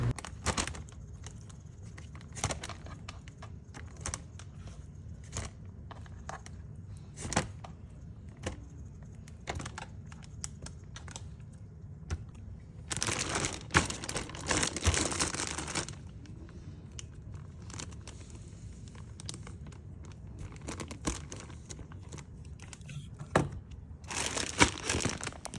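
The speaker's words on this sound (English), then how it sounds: "I cut them up, and I'm putting them into a Ziploc bag" Plastic Ziploc bag crinkling and rustling close by as cut pineapple pieces are dropped in. Small clicks and taps repeat throughout, with a louder burst of crinkling partway through.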